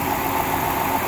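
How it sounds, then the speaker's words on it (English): A 2010 Dodge Caravan mobility van with its 4.0 V6 engine idling after running for some time, a steady, fairly loud, even rumble with no change in pace and no talking. "This van's been running for about 10 minutes here."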